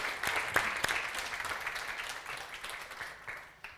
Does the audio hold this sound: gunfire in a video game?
no